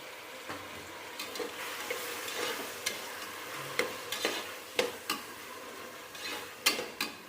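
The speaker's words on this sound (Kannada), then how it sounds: "ಈರುಳ್ಳಿ ಹಾಕಿ ಸ್ವಲ್ಪ ಕೆಂಪು ಹುಟ್ಟಾದ್ಮೇಲೆ ಟೊಮೊಟೊ ಹಾಕ್ಬಿಡಿ." Onion and tomato fry in a pan for veg pulao: a soft continuous sizzle broken by repeated clinks and scrapes of a spoon stirring against the pan, fairly quiet and close.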